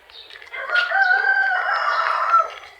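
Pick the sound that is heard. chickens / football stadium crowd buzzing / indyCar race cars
chickens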